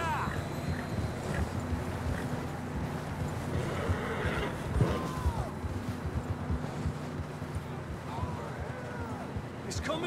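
Horses whinny and snort in a windy mountain setting in Red Dead Redemption 2, fairly faint calls rising over a steady wind and hoof shuffling bed, with several short neighs spread across the clip.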